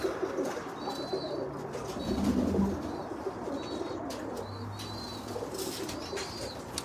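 Pigeons in an old man's loft, a flock of spinner birds, cooing low and steady close by, with wing flaps and a few higher chirps over a constant background hum.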